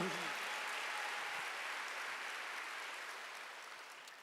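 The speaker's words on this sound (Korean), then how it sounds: "믿는 사람만 박수 주세요." A church congregation applauds steadily during a Wednesday worship service, a dense wash of clapping that slowly fades toward the end.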